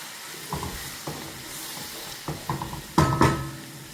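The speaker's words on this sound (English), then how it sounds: "Add onions and allow to fry." Onions sizzle in a hot pot, with a steady frying hiss punctuated by several sharper crackles and stirring bursts, louder toward the end.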